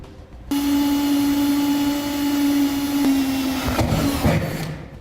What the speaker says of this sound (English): And we'll drill a pilot hole.